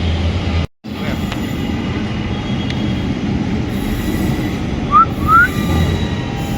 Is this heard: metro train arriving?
yes